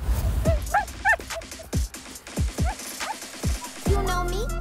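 A cartoon dog barks and yips in short, punchy bursts with whimpering tones during a rap and dance challenge, mixed with music and sound effects.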